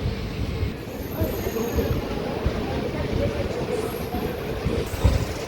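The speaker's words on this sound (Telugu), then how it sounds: "మన ట్రైన్ వచ్చి బయలుదేరుతుంది తాడపల్లిగూడెం రైల్వే స్టేషన్ నుండి" The Simhadri Express pulls out of Tadepalligudem railway station, a steady close rumble of wheels and carriages with faint squeals and a soft voice in the background.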